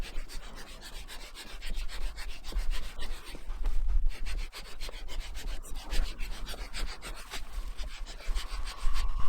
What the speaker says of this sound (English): You hear the air going from the leading edge into your strut.